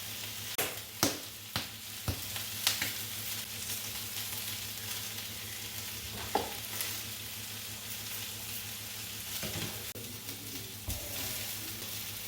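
A chicken curry mixture with rice, broth, garlic and ginger frying in a pan, a faint steady sizzle with several sharp utensil clinks and scrapes spread through, and no voices.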